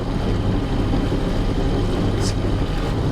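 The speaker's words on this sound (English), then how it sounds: "I revved up this engine a little bit." A boat engine drones steadily and loudly throughout, a constant low rumble with a brief higher whine near the end.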